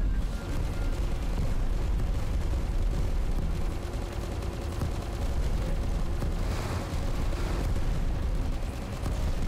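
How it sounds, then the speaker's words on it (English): Bomb explosions in the aerial combat video game Dogos rumble as a continuous heavy, low roar, dense and loud throughout with no speech. "Drop the bomb!"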